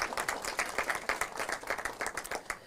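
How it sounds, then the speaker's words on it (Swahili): A crowd applauds at an officer cadet passing-out parade in Ruiru, Kenya, with dense, rapid clapping from many hands, steady and moderately distant, with no speech over it. "Naomba tupigie waziri Murkomen makofi kidogo."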